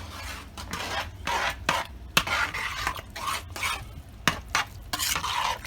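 Spoon working through a thick chilli cornbread mixture seasoned with cayenne, giving repeated wet scraping and sloshing strokes against a bowl in a steady rhythm, close and alone.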